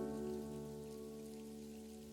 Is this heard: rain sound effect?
yes